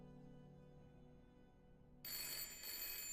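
A telephone in the horror game Layers of Fear starts ringing partway through with a bright, trilling bell, loud and close over a low, eerie ambient hum.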